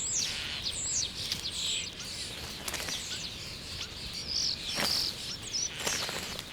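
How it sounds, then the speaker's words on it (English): A flock of starlings with their young chatters at a cherry tree, a busy mix of high chirps, whistles and squeaky calls over a soft rustling background, moderately distant and continuous. "A flock of starlings with their young can decimate an entire cherry harvest in no time at all"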